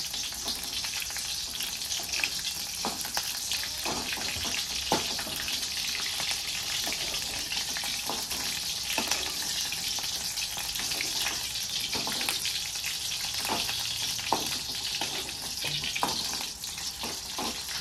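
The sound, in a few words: chopped green chillies frying in oil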